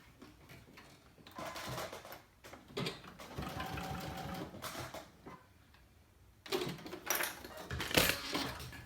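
A sewing machine runs in bursts while stitching a Henley neckband without backstitching, with clattering needle action, short pauses between runs and a louder burst near the end; no talking.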